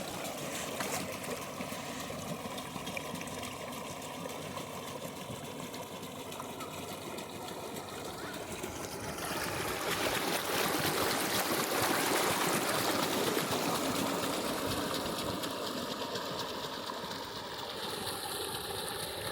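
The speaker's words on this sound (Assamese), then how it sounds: "ৰাতুলে বাইকখন চলাই আছে এই চাওক" A motorbike engine drones steadily as the bike runs through floodwater, over rushing, splashing water, growing louder about halfway through and staying loud.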